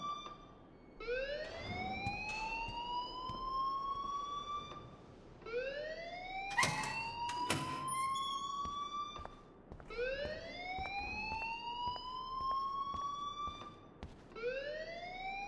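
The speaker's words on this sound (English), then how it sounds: "please turn off that alarm since that's your job" In Life Is Strange, an electronic alarm sounds in a school setting with repeated rising whooping sweeps, loud and continuous, broken briefly by a few sharp clattering noises.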